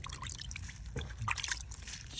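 Water is poured over a potted red yucca plant, giving soft splashes and trickles into the soil close by, with a few brighter drips partway through.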